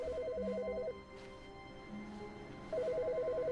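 A telephone ringing in the video game The Stanley Parable, two bursts of electronic trilling rings separated by a quiet gap, clear and fairly close over a low ambient hum.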